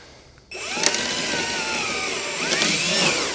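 A power drill whines steadily for about three seconds after a brief quiet start, close and loud, its pitch dipping slightly as it bites in.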